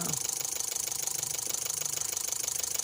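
Engine of a 2014 Daihatsu Terios with a crankshaft sensor fault that starts then dies, running steadily close by with a rapid even pulsing throb and faint rattle, no talk.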